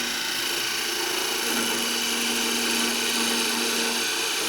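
A woodturning tool cuts an arc into wood spinning on a lathe, producing a steady scraping hiss over the motor's faint drone, constant and fairly quiet with no speech.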